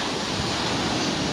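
Sea waves roll in at Labuan Haji beach in East Lombok, a dense, steady roar of surf with wind-like rushing throughout and no voices.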